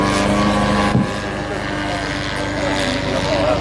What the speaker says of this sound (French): et puis je vois une remise de gaz